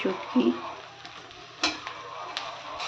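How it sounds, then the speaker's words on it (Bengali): Dried bashpata fish fries in a pan with shrimp and taro stolons, giving a soft steady sizzle. A few clattering stirs of a spatula against the pan sound close and briefly louder over it. "শুটকিটাকে আমি এবার ভেজে নেব।"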